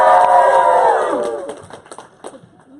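A rowdy crowd at a comic con panel cheers loudly, a dense wall of voices that starts strong and fades over about a second and a half into scattered shouts.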